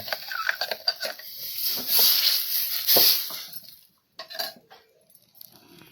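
Ground masala paste for a mackerel curry drops into a pan with wet splats and a scraping, clinking spoon against metal, followed by sizzling that rises and fades; close, with no talk.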